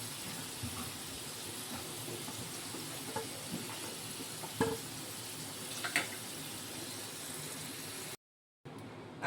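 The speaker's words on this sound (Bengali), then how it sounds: "আলুগুলো লাল লাল করে ভাজা হয়ে গেছে" Potatoes sizzling in hot oil for aloo dum, a steady broadband hiss of frying that runs close and fairly even, with a few small pops, cutting off briefly near the end.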